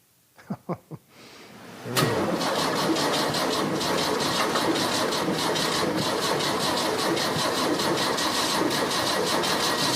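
A Porsche 356 engine fires up for the first time: a few short cranking bursts, then it catches at about two seconds and settles into a steady, close, loud rumbling idle with no voices.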